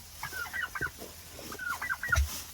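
Chickens and turkeys in a coop make close, clustered clucks and gobbling calls in irregular bursts, with a low thump near the end.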